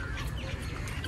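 Chickens cluck briefly amid noisy rural surroundings while the birds are fed grain, a faint and very short burst heard through a steady hiss.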